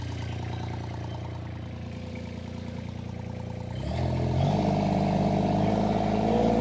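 A drum mulcher's engine runs steadily at a set speed, then rises in pitch and load partway through as it climbs to a higher RPM, a loud continuous mechanical drone with no talk.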